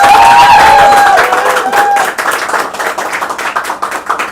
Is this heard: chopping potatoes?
no